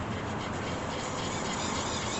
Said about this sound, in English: I'm going to have to get this sharpened up a little bit.